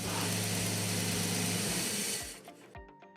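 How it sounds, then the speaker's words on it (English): A car engine runs steadily with a low idle hum during a power steering bleed, then shuts off abruptly after about two seconds, leaving a few faint clicks and knocks. "Start it up, Craig."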